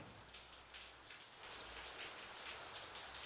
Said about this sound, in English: it seems to be a rainy day in Port Harcourt